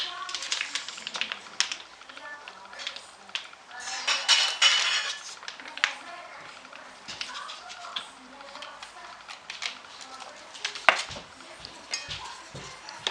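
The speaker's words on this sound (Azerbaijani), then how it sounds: "Qarışdırıram." Sauce of mayonnaise, salt and black pepper stirred in a bowl, with close, irregular clinks and scrapes of a utensil against the dish continuing for several seconds amid faint background sounds.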